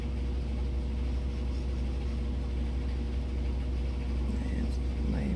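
A home washing machine runs through the whole stretch as a steady low hum and rumble, a constant mechanical drone with no pauses or breaks.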